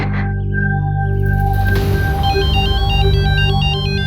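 A phone rings during an outgoing call, with a continuous electronic ringtone melody of repeating bright tones, loud and close, over a steady background drone.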